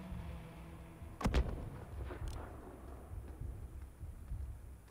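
Gunfire in Modern Warfare 2019 during a night battle against a mortar team: one loud, sharp report with a heavy low boom near the start, then scattered distant thuds under a steady rumbling background.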